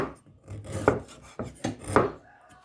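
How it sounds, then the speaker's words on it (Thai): A knife slices turmeric into thin rounds on a board in several sharp, uneven strokes, close up and crisp, with no talking. "ขมิ้นซอยค่ะ นี่หั่นลงไปเป็นแบบนี้เลย"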